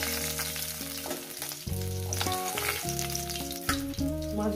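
Catla fish pieces fry in hot oil with a steady, close hiss, partly masked by background music. The sizzle runs continuously with no talking.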